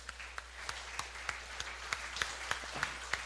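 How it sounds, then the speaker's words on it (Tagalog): A church congregation claps loudly during a worship service, sparse and uneven, with scattered sharp claps over a low steady hum. "Lahat po na nagmamahal sa Panginoon ay pumalakpak ng malakas."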